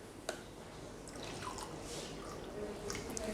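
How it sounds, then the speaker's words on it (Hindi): Branded bottled water poured into a container for a green tea extract demonstration, heard as a faint, soft trickle with a few light drips against quiet room noise. "डालते हैं ब्रांडेड पानी"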